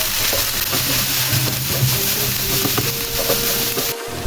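Kimchi fried rice being stirred in a hot pan, with continuous sizzling and frying plus scraping, clinking utensil strokes against the pan, steady and close without talk.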